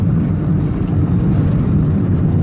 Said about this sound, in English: Oh, look at that plane passing by.